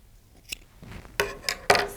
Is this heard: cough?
no